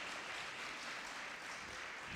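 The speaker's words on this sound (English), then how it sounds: "please, with a round of applause" Faint, steady applause from an audience at a fundraising event, a soft continuous wash of clapping with no voices over it.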